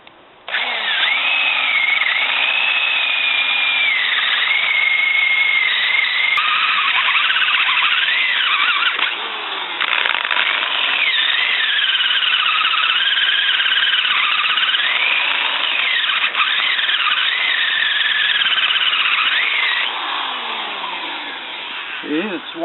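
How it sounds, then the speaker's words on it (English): A power drill bores holes in a piece of firewood, a loud close whine with a rising and falling pitch that runs almost without pause as the bit bites into the log. "drill 2 holes"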